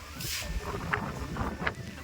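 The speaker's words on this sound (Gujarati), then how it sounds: "પવન મિત્રો બહુ આવી રહ્યો છે અત્યારે" Strong wind buffets the microphone with a steady low rumble and gusty roar, a couple of brief bumps standing out partway through.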